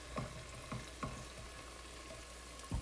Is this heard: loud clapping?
no